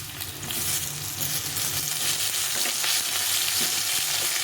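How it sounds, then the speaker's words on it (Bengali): Potato and eggplant fry in a pan with a loud, continuous sizzle and crackle, stirred now and then, close up with no voices. "আলুটা একটু ভেজে নেব আলুটা সেদ্ধ হতে টাইম লাগে"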